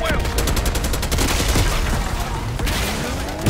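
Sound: gunfire from a video game (Black Ops 6)

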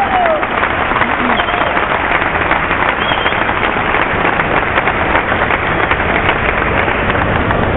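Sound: audience applauding

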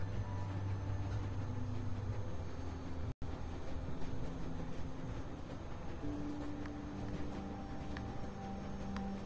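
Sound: train running in The Walking Dead video game

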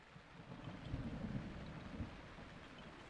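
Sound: rain and thunder in a video game

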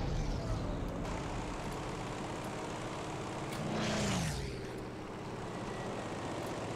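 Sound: plane flying in the video game Battlefield 5

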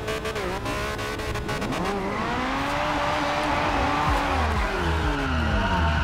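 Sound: Ferrari GTO engine revving, Forza video game

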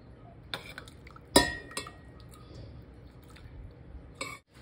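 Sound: straining boiled tomato water with kitchen utensils

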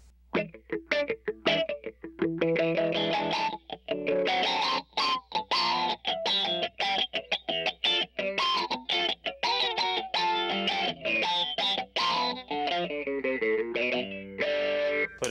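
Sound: guitar through Electro-Harmonix Bassballs envelope filter pedal

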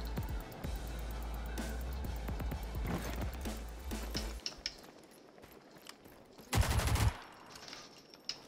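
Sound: gun shooting in video game Rogue Company

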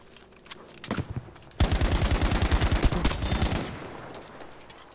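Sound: gunfire in the video game Battlefield V

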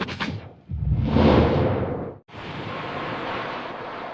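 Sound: stormy wind and ocean waves, cartoon sound effect

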